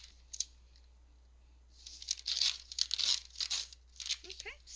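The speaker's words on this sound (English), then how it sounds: "butcher paper is going to be cut at 7 by 10, and I'm just going to ruler tear it." Butcher paper torn along a ruler: several sharp, crisp ripping bursts close up, in quick uneven strokes, with short pauses between them.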